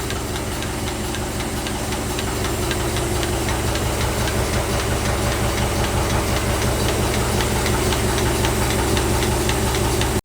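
Tractor engine running steadily in a farm field at dusk while pulling irrigation furrows for onions, a loud continuous rumble with rapid rhythmic knocking and hiss throughout, no voices.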